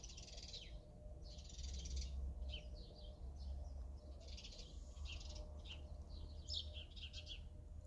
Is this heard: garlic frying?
no